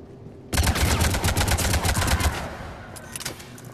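Rapid gunfire erupts suddenly in a Mass Effect 3 firefight near a sniper, a loud flurry of sharp cracking shots for about two seconds, then fading to scattered distant shots.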